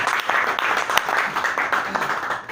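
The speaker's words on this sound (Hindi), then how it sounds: "एक बार ज़बरदस्त तालियां होनी चाहिए।" Audience at a business seminar claps in a lively burst, uneven and pulsing over a couple of seconds, with some voices mixed in.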